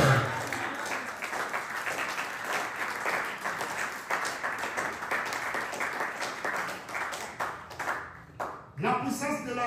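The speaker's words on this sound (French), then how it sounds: "acclame pour Dieu." Church congregation applauding and cheering together during a sermon, a dense, sustained burst of clapping with voices mixed in that fades near the end.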